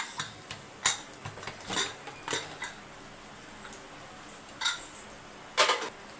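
A metal lid clatters on a cooking pot of mutton being opened as small onions fry nearby, scattered light clinks and taps spaced irregularly over a soft steady background hiss.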